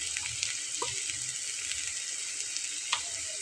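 Turmeric sizzles steadily in hot oil in a home kitchen pan while sponge gourd fries, a continuous close hiss with a few faint clinks and no talking.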